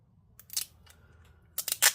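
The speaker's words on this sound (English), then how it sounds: "we're just gonna cut a piece like this" Scissors snip through a strip of tape in a few sharp, close cuts, two separate clusters with a quiet pause between them and no talking.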